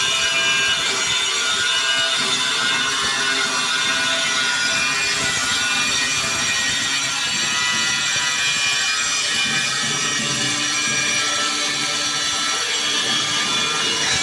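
A handheld power cutting machine fitted with a guard grinds through a wall tile with a steady, loud, harsh whine and rasp that runs unbroken from start to finish, with no voices.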